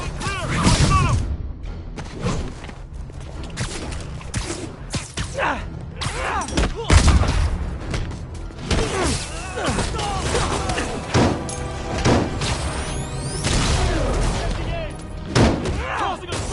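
Gunfire and a smoke grenade in a Spider-Man video game: dense, rapid bursts of shots mixed with heavy thumps and booms, loud and continuous, under shouted in-game voices.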